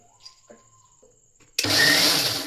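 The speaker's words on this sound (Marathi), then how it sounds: "आपल्याला हे आता मिक्सरमधून काढायचे." An electric mixer grinder grinds soaked moong dal. After a quiet stretch with faint background sounds, the motor starts abruptly into a loud, continuous, rough whirring roar that holds steady to the end.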